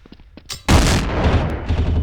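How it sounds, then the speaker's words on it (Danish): Gunfire in a video game: a few quick light shots followed by a loud burst of heavy gunfire, close and dense, trailing off into rattling reports. "Jeg synes, der røg nogle skud ud der."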